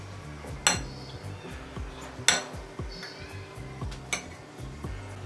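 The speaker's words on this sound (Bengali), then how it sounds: "এবার সবগুলো সবজি আমি একটু একসাথে মিশিয়ে নিচ্ছি" A spoon stirs chopped onion, green chilli and coriander together in a bowl, producing close, bright clinks and scraping knocks against the dish at an irregular pace, with no talking.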